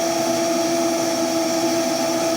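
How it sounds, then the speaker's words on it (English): A Vitamix blender runs steadily throughout, a loud continuous motor whir with a strong hum and no pauses or voices. "That's why I live for that Vitamix"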